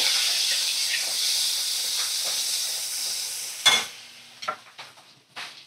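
Ginger-garlic and cumin paste sizzles steadily in a hot pan, a bright continuous hiss that fades toward the end and is then broken by a few sharp stirring scrapes and clatters.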